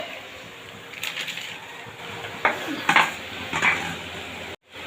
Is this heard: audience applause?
no